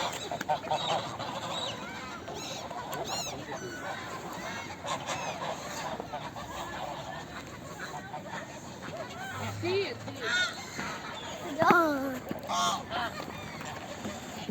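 Geese or ducks honk and quack in scattered calls while being fed bread, with the birds close by and people talking over them throughout.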